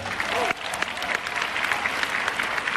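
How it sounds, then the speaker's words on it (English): An audience applauds, a dense steady patter of many hands clapping throughout, with a faint voice briefly audible beneath. "Give yourself a round of applause."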